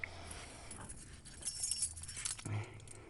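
Car keys for a 1995 Chevy Cheyenne jangling faintly up close, a few brief light metallic clinks over quiet room background.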